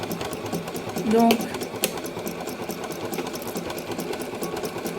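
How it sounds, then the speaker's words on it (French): A sewing machine stitches a seam near the end of a line of sewing while making a headband, its steady mechanical whirring running under a voice speaking French. "Je suis arrivée presque à la fin de la ligne de couture."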